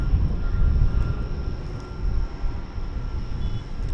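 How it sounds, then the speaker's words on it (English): A Spirit Airlines Airbus A320neo bound for Chicago O'Hare roars steadily at DFW Airport, a broad continuous rumble mixed with wind noise and no talking. "It's an Airbus A320neo"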